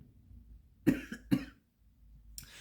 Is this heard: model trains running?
no